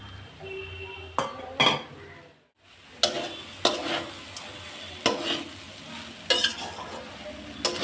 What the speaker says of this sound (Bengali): দিয়ে আমি ভালো করে নেড়ে নিব।